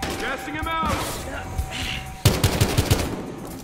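A quick rattling burst of automatic gunfire, five or six sharp shots in a row, cracks through a Battlefield Hardline firefight after a stretch of someone speaking over background game noise.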